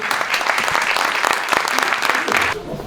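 A live audience at a Paris tech event cheers and applauds loudly for arriving guests, a dense sustained wash of clapping and shouts that eases slightly near the end.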